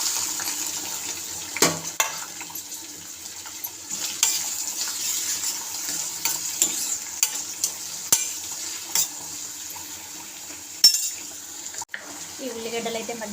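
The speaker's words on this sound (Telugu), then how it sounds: "ఇప్పుడు ఈ ఉల్లిగడ్డ పచ్చిమిర్చి అయితే వేసేసుకుందాము" Onion and green chillies hit hot oil in a pan, giving a steady close sizzle with spoon stirring clinks and scrapes throughout, and a few sharp knocks and a brief water splash near the end.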